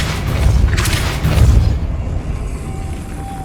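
The Depulso spell is cast in Hogwarts Legacy, producing a loud, close, booming magical blast with a deep rumbling impact that peaks twice before fading into ambient game sound.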